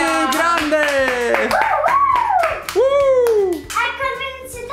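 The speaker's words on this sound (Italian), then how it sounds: "Applausi, bella." Clapping for the winner of a home bowling game, a few sharp hand claps near the mic mixed with excited voices and someone talking over them.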